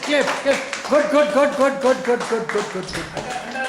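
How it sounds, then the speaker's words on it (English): A group at a social gathering claps for a guest, with steady, overlapping claps running beneath loud, continuous talking voices. "Just clap."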